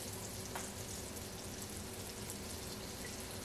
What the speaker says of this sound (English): We're gonna try a test batch with just like a couple of them and just see how they fry and how long